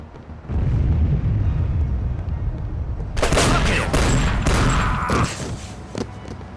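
Shotgun blasts and gunfire ring out in the video game Chaser during a Montack City level, loud repeated booming shots over a rumbling low background, growing sharper and denser in the second half.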